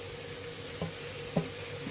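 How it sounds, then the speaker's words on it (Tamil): Chopped tomatoes hit a frying pan while cooking mutton biryani: a steady soft sizzle with a couple of brief clinks and stirring knocks, nobody talking. "அடுத்தது வந்து நம்ம அரிஞ்சு வச்சுருக்கிற தக்காளியை வந்து நல்லா போட்டுக்கலாம்"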